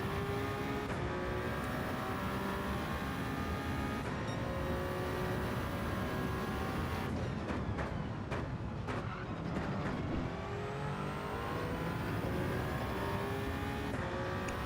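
A GR1 race car engine in Gran Turismo 7 at Watkins Glen, a continuous loud high-revving drone whose pitch climbs steadily and then drops sharply at each upshift, heard alone without voices.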